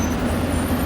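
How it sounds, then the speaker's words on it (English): Heavy trucks rolling past on a road beside a burger stop in Idaho, a steady loud engine and tyre rumble filling the whole second with no break. "All the fucking trucks come when we do this."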